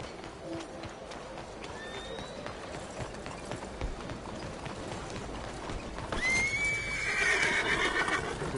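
A horse in the Western game Red Dead Redemption 2 gives a loud, drawn-out whinny near the end, over steady outdoor ambience with soft hoof movement earlier.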